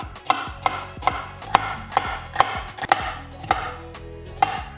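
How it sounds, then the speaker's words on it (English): A knife slicing yellow and red capsicum into strips on a cutting board, with about a dozen crisp, evenly spaced chops close by and nothing else under them. "Just cutting it into little strips like this."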